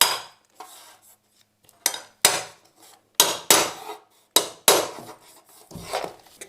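A tapping block is struck against laminate flooring planks to knock them into place, a series of sharp, close knocks in irregular spacing with brief rattling decays and silence between blows.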